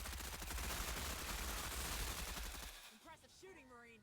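Rapid automatic gunfire from a squad shooting at bugs in the game Menace rattles on as a dense, loud burst for nearly three seconds, then cuts off, followed by a short stretch of talk.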